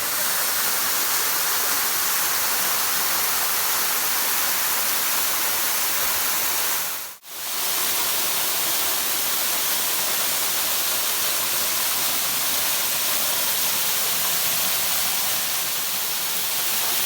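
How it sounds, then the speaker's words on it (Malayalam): A waterfall at Palur Kotta roars as a loud, steady broadband rush, with one momentary dropout midway before the torrent resumes unchanged. "നല്ല അടിപൊളി വെള്ളച്ചാട്ടമാണ്."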